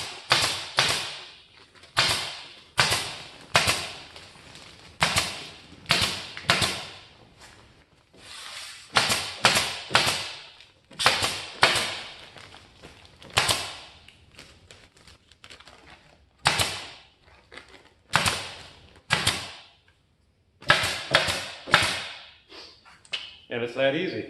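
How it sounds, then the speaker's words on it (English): A staple gun fires into insulation on a pole barn wall, sharp loud snaps in quick clusters with short pauses between bursts, each followed by a brief rustle, close to the listener with no talking. "take my staple gun and come back and finish stapling"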